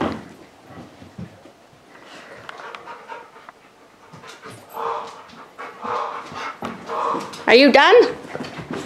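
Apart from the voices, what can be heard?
puppy panting and barking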